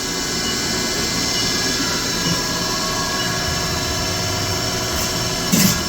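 A 2020 Haas CL-1 CNC lathe spindle turns at 2000 RPM, giving a steady, even mechanical whir at moderate loudness, with one short clunk near the end.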